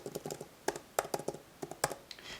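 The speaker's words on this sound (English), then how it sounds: "This keyboard reminds me of my 16-inch MacBook Pro's keyboard." Keys clack on an iPad Pro 2018 keyboard, quick irregular bursts of crisp clicks at close range, with no talk.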